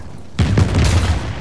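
A grenade goes off in Uncharted 4 multiplayer, a sudden loud close boom after a brief quiet moment, followed by a rolling, crackling blast tail.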